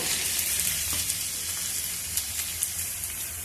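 Colocasia pieces fry with onions in a hot pan, giving a loud, close and continuous hissing sizzle with small crackles and the odd light stir.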